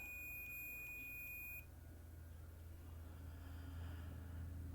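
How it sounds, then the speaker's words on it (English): A digital multimeter in continuity mode beeps as its probes touch while testing a 2005–2011 Cadillac STS shifter: a thin, steady high tone pulsing briefly for about a second and a half over low background hum. "when you touch them together, it'll make your meter show numbers and also make it beep"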